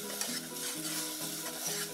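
Spring onions and tarragon sizzle steadily in a hot pan, stirred with soft rhythmic scraping strokes under a constant, close frying hiss; no voices.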